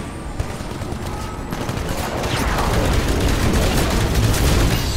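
Sustained, dense gunfire from Titanfall fills the clip, loud and continuous, with rapid overlapping shots and a rising, roaring intensity toward the end and no voices over it.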